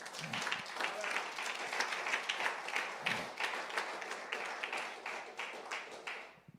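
A church congregation applauds and cheers for several seconds, with dense, sustained clapping and voices blending in a reverberant hall, fading out at the end.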